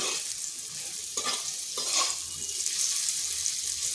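Potato pieces frying over high heat in a pan, a steady broadband sizzle with occasional stirring scrapes, close and continuous with no talking.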